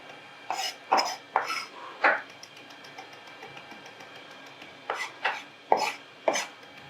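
Knife chopping flat-leaf Italian parsley on a cutting board, heard as two clusters of sharp, close taps with a quiet pause between them.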